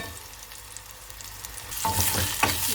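Onions, curry leaves and mustard seeds frying in a pan for dhal: a soft background sizzle that swells into louder crackling and spattering pops near the end, with no voices.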